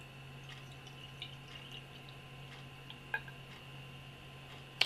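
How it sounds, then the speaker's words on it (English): Dogfish Head IPA being poured into a glass gives off a quiet, steady fizz with scattered small ticks and pops from rising bubbles. It is close and faint, and nobody talks. "you could hear it bubbling as I was pouring it"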